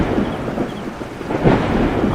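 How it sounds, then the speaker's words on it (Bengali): Loud, deep thunder rolls on without a break during a night storm, with a dense rumble mixed with rain. "সঙ্গে সঙ্গে কানে তালা লাগানোর মেঘের গর্জন"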